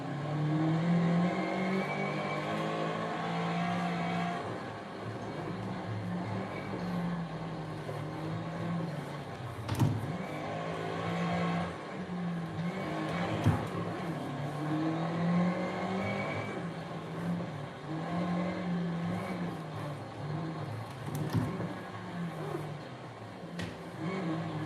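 A rally car engine in the video game Assetto Corsa Rally, revving and shifting through gears with a steady droning whine, pitch rises and drops, and a few sharp transients.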